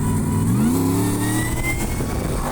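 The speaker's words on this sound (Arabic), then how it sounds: "والله صوت السوبر تشارج قصة وحكاية هاي السيارة ما شاء الله" A Nissan Patrol fitted with a supercharged American engine revs close and loud, the pitch rising sharply then holding in a sustained roar with supercharger whine, no talk over it.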